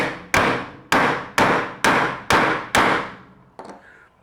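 A slotted screwdriver tapped to seat a part on a Milwaukee Packout dolly gives six sharp, evenly spaced knocks with ringing decay, close and loud, then a fainter final tap.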